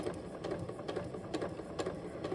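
A sewing machine runs steadily while stitching a shoulder dart on a Fielder top or dress, its quiet needle rhythm ticking evenly and close, with no voices.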